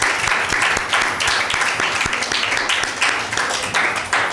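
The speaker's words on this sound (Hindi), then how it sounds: "यान के लिए ज़ोरदार ताली।" Loud, vigorous applause for a child at a Mother's Day children's gathering, a dense crowd of clapping hands with sharp individual claps standing out, sustained steadily throughout with no talk.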